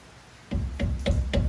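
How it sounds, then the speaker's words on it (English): Steel punch struck with a mallet to drive a brake pin out of the rear caliper on a Porsche Boxster 986, four sharp metallic knocks in a steady rhythm, close and clear with no talk. "Knock this pin through."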